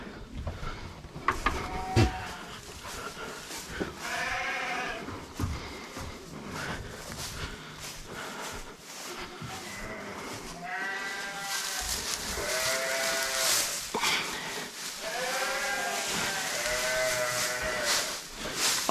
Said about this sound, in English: The sheep are gonna be upset, jealous of the goats.